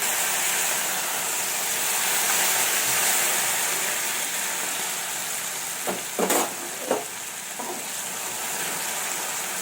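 Green chillies and masala frying in a pan, giving a steady hiss of sizzling oil with brief stirring clatters near the end.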